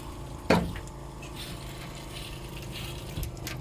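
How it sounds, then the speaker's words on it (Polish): A water tap opened and then switched over to a shower, giving a soft, steady hiss of flowing water with a sharp click near the start and another faint click later. "Odkręcam sobie wodę."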